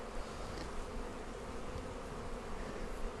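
Honeybees swarm around an open hive during a pre-spring inspection, a dense, steady buzz close by with a constant low hum, drones among the workers, and no talking.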